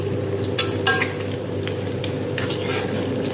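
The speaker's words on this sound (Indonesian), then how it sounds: "teman-teman di sini saya lagi goreng bakwan jagung ya." Corn fritters (bakwan jagung) frying in a pan of oil make a continuous close sizzle, broken by a few sharper crackling bursts as they cook, with no speech.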